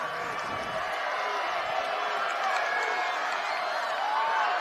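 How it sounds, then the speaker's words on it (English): A crowd at a high school football game between Pleasant Grove and Skyridge yells with a dense, steady roar of voices that continues without a break. "The crowd below us is yelling, run the ball"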